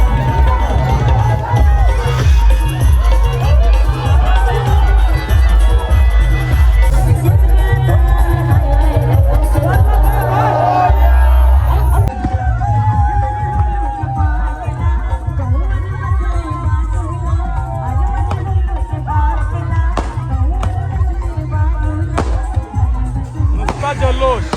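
A dense crowd roars and cheers continuously as villagers shoulder the Holi pole through a river at a Koliwada Holi procession, with loud rhythmic drumming and babble of many voices throughout.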